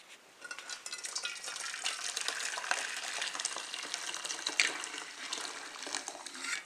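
Pineapple drink liquid is strained in a home kitchen, giving a steady close pouring and trickling splash with faint clinks, running continuously after a quiet start.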